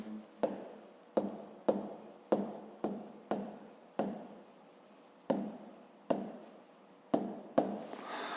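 A pen scratches across paper during a fifth-grade maths exercise, about a dozen distinct close strokes at an uneven rhythm, each starting sharply and trailing off, with no talking.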